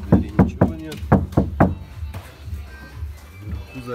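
A Ford Focus car door panel, partly stripped with only a strip of vibration damping, is knocked about seven times in quick succession, each hit a hollow, drum-like thud, before a quieter stretch of faint handling noise.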